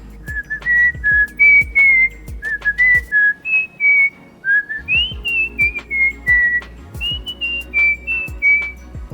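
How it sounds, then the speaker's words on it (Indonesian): A woman whistles a simple melody, clear, close and tuneful notes in phrases with short breaths between, accompanied by soft rhythmic taps or beats beneath. "Yang ketiga, saya bisa siul."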